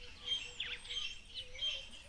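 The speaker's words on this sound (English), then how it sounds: "Oh, quite a lot of birds." Birds call repeatedly at a waterhole in a breezy outdoor setting, bright high chirps recurring in a loose rhythm at moderate distance over a soft wind-like background.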